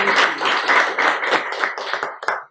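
Applause from a Toastmasters club meeting audience greeting the evening's Toastmaster, a steady wash of hand claps with individual taps standing out, fairly close and sustained throughout.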